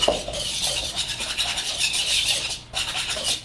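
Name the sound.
whisking flour, spices, baking soda and powder in a bowl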